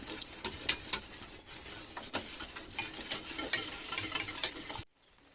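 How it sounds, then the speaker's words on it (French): In a camping-car kitchen, salmon blanquette sauce is stirred continuously as it begins to boil, the spoon scraping rhythmically against the pan over a gentle bubbling sizzle until it stops abruptly near the end. "Alors là, faut surtout pas s'arrêter de remuer"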